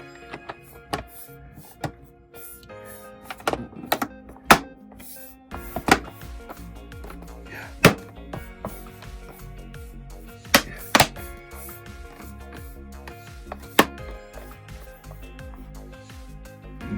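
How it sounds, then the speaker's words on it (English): A computer back cover is pressed and snapped back into place, producing a series of sharp plastic clicks and thunks spread irregularly over several seconds, close up with quiet handling noise between them. "And then we're just gonna pop this back on."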